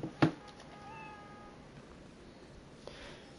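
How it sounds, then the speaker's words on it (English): A pet cat in Spider-Man: Miles Morales gives one short, clear meow near the start, followed by faint ambient game sound and a small later click. "My Spider-Man, you know, my cat"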